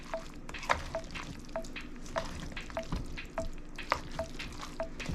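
Noodles mixed with soup, several kinds of noodles together, stirred in a pot with a utensil, making repeated scraping clinks and soft wet swishes at a steady rhythm against a low simmering background, close and moderately quiet.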